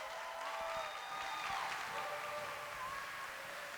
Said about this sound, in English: One more round of applause for our seniors.